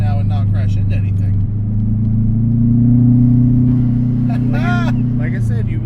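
A modified Subaru Forester XT fitted with hand controls drives along, its engine a steady close rumble that swells slightly mid-way, with a voice talking over it near the end.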